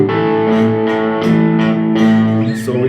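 A sneaky fingerpicked electric guitar rhythm from a song, with a steady run of plucked notes and chords ringing over one another, clean-toned and close, with no talking.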